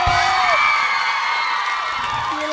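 A crowd at a television show cheers loudly for the band, with shrill whoops and high-pitched shouting over a continuous roar of voices. The sound is close and energetic throughout.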